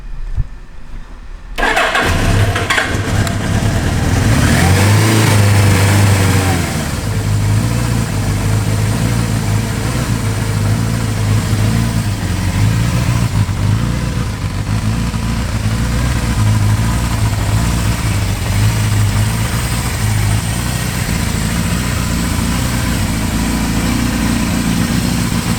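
A 1980 Suzuki GS 750 motorcycle engine cranks and catches after a brief quiet moment, then settles into a loud, steady idle that continues close by without speech.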